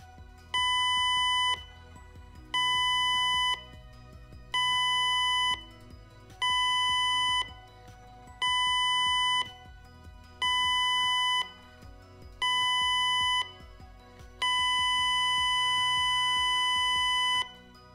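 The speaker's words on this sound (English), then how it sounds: "The general emergency signal is 7 short blasts followed by 1 long blast on the ship's warning system." A ship's general emergency alarm sounds on the warning system as seven short electronic blasts followed by one long blast, all evenly spaced, sharp and steady, with no voices.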